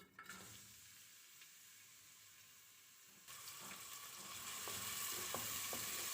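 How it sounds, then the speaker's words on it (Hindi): Chopped medium onions frying in three to four tablespoons of oil in a pressure cooker, a steady sizzling hiss that swells louder partway through, close by with no talking. "अब मैं इसको गोल्डन ब्राउन होने तक फ्राई करूँगी।"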